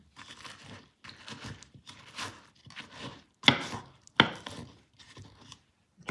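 Cooked plantain for mofongo is mashed and mixed in a bowl or mortar, giving a series of close, rhythmic thuds and squishy crunching strokes separated by short pauses.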